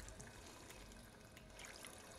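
Water trickles and pours softly and continuously in the game Fallout 4 as a character drinks from a clean source, faint and steady with no voices.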